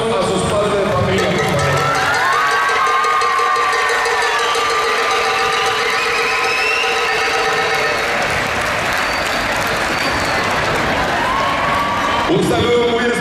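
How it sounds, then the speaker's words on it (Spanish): A crowd applauds at the opening ceremony of an international volleyball cup, with loud, sustained clapping and a voice carrying over the top before it fades near the end. "Vamos a darle un fuerte aplauso a sus padres de familia."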